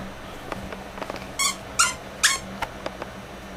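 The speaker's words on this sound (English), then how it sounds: "our stuffed squeak animals aren't going to last long" A stuffed squeak toy gives three short, sharp squeaks a fraction of a second apart as a dog chews it, with faint clicks between them in a quiet room.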